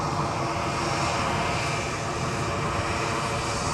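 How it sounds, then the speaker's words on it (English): An EasyJet jet airliner takes off from Edinburgh airport, bound for Munich, with a steady, loud, continuous engine roar held throughout, unbroken by voices. "The EasyJet is off to Munich."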